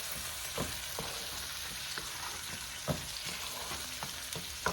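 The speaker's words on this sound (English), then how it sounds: "Put them in there and let that cook for a while. Let it cook on low heat." Chicken cacciatore with diced tomatoes simmering in a pan on low heat gives a steady, soft sizzle, with a few clear knocks of a spoon against the pan and no one talking.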